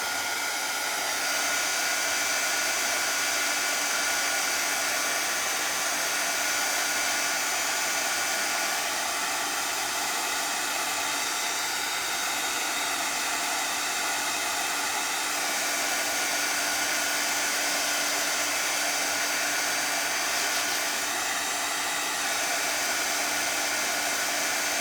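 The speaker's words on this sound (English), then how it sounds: "Let me hit this with the dryer." A hair dryer blows on craft paint on a Santa gnome project, a steady, unbroken whooshing roar that runs close and alone for the whole stretch.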